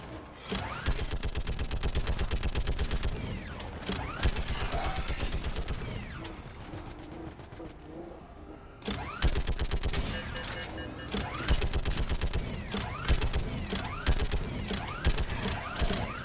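A mounted gun in Mass Effect 3 fires in sustained rattling volleys with mechanical clatter. The fire drops away briefly partway through, then resumes at full, dense intensity.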